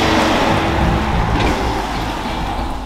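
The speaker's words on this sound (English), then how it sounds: "Let's put this truck in drive and drive her down the highway and see what this 5-liter engine's all" A Ford F150 pickup with a 5.0L Coyote V8 drives on the road while towing, giving a loud, steady blend of engine drone and tire rumble that holds constant and close throughout.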